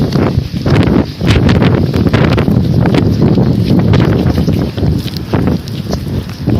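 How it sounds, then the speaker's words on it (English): Strong storm wind roars steadily and loudly outdoors, buffeting the microphone with heavy gusty rumble and rustling throughout, with no pause in the noise. "Feel the wind?"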